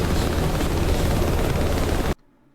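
A loud helicopter in a combat flight simulator game roars with thick, continuous rotor noise, then cuts off abruptly into near silence.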